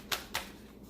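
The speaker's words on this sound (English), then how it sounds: "premeditative shuffle" Tarot cards being shuffled by hand in two quick, crisp riffling bursts close by, with a quiet pause between and silence after.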